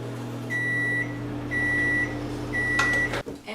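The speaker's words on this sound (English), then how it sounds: "I'm going to put it in the microwave for maybe like 30 seconds just to melt it" A microwave oven running to melt olive oil, with a steady low hum and three evenly spaced beeps near the end, then a door clunk, close and clear with no talking.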